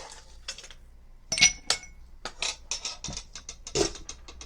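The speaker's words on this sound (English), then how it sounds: "Add a couple of ice cubes." Ice cubes dropped into a glass for a 1917 Rose in June cocktail, giving a quick series of bright, close clinks and rattles with small gaps between them.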